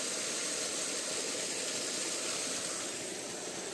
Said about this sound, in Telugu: మోటార్ అయితే ఆన్ చేసేసినాం.